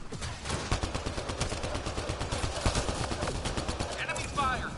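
Rapid bursts of automatic gunfire from the video game Mass Effect rattle continuously in dense, fast repeating shots, loud and close, with a few voices heard in the background.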